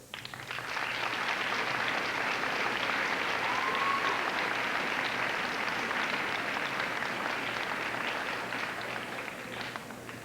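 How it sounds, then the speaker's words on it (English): An audience at a school award ceremony bursts into sustained applause, dense clapping that swells quickly, holds loud and steady for several seconds, then begins to fade. "I presume you were clapping for the teachers rather than the students."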